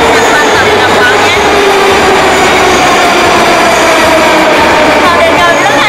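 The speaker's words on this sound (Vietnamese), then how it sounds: "Tàu điện ngầm rất là nhiều và tới liên tục" Moscow metro subway trains arrive in an underground station, a loud continuous rumble and roar with metallic squealing tones and faint clatter, filling the space steadily throughout.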